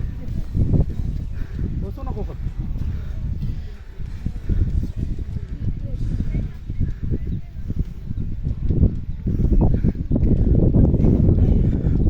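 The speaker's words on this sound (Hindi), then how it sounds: "बहुत ही अच्छी हवा चल रही है।" Wind on a hillside fort trekking trail rumbles and buffets the microphone in uneven gusts. It gets louder toward the end, and people talk underneath.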